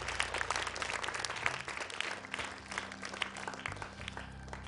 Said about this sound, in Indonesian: Boleh tepuk tangan sekali lagi untuk Fatma.